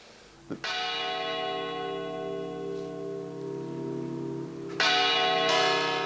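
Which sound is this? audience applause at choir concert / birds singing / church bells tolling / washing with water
church bells tolling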